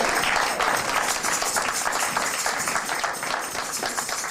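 A church congregation applauds steadily to acclaim the Lord, a dense, sustained wash of clapping from a crowd filling the whole span at even loudness with no pauses.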